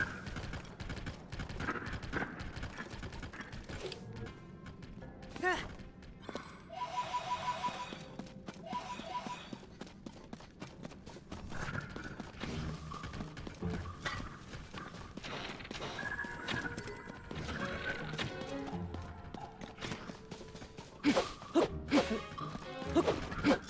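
Horse hooves in Zelda: Tears of the Kingdom: rapid rhythmic clip-clop galloping amid game sound effects and music, moderately loud and continuous, with a few sharp crashes along the way.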